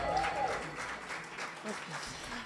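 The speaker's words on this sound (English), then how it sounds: "Let's give a round of applause," Audience applause at a live music awards nominees announcement, a moderate wash of clapping mixed with a voice talking over it throughout.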